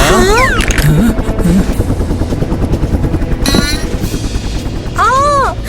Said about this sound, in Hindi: ये कैसी आवाजें हैं? लगता है कोई हेलीकॉप्टर।